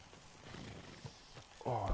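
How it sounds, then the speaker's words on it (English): A horse out on a trek plods along with soft, quiet hoof clip-clops, followed by a louder snort or whinny-like sound at the end, with a voice briefly present. "Oh, that's a nice horse."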